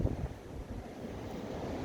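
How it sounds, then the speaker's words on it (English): Strong gusts from Storm Eunice buffet the microphone in a low, continuous rumble, with a few heavier bursts at the start and no talking. "It's a bit windy."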